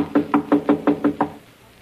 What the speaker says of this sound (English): His door's closed. We better knock.